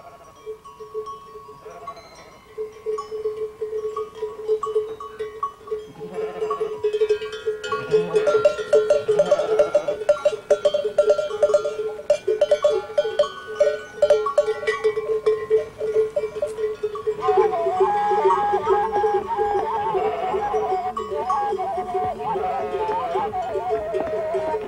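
Hundreds of sheep bleating in a moving flock with clanking cowbells, a steady outdoor bustle that grows busier and fuller over time.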